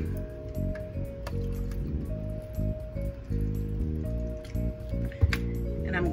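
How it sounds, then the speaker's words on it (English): Water poured into a blender with honeycomb and cactus, a steady liquid fill with small drips and splashes, heard up close against a low background hum. "I'm going to add some water."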